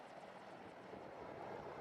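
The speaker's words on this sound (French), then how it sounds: "Voilà l'hélicoptère avec la dépouille de Massoud qui arrive au village." A helicopter arrives at a village in the early morning, its rotor a steady, fairly faint, distant thrum that keeps up without a break and has no voices over it.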